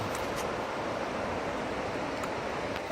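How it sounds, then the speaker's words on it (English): Steady broadband rush of rapids and waterfalls below a mountain trail near Mount Marcy in April, a continuous even roar with no break, moderately loud and heard alone. "A bunch of rapids, waterfalls down there."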